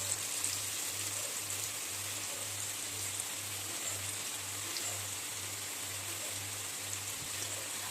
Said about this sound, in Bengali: আদা কুচিগুলো দেওয়ার পরে বেশি সময় ভাজবো না